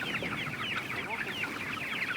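Several chickens cluck and chatter continuously at close range on a pasture farm, a busy overlapping flock sound with no pauses.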